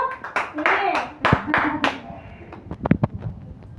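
Hands clapping in a loose, uneven rhythm along with a home sing-along, mixed with children's and adults' voices talking and singing over the claps.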